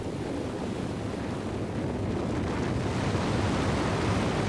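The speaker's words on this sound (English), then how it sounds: "20 million tons of water pushed through the dam" Flood water from a burst dam upstream of Johnstown rushes in a steady, loud broadband roar with no letup, like heavy surf or wind, and no voices over it.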